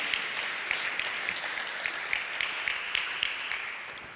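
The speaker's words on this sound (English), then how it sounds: "will you give yourselves a round of applause" An audience at a youth gathering on fighting corruption in East Africa applauds as a steady wash of clapping. Scattered sharper claps stand out through the sound, which is moderately distant and carries no speech.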